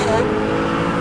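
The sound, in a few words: drag racing cars, Chevelle and Nova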